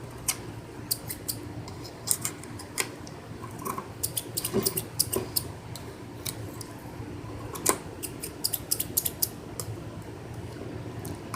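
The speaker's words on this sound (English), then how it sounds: "bring the scissors to the base and cut" Small scissors snip cotton wick at the base of a vape coil deck on a Smok rebuildable tank, giving a series of sharp, close, irregular clicks and snips over a quiet room background, with no talking.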